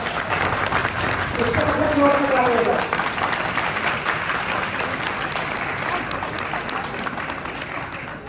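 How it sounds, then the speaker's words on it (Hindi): Heartfelt clapping from an audience at a spiritual discourse, sustained across the whole stretch while a voice speaks over it, gradually easing toward the end. "और सब लोग मन से ताली बजा रहे हैं"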